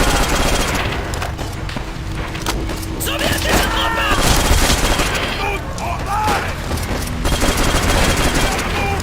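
An MG42 machine gun firing in a video game, a dense, continuous stream of rapid shots running loud and steady throughout, with other battle noise mixed in and a voice talking over it.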